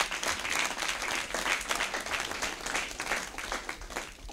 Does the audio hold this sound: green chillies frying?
no